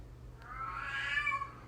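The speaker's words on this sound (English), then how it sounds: "and that's my cat losing his shit" A vocal Savannah cat lets out one drawn-out, rising and wavering meow indoors, fairly clear against a quiet background, with no voices.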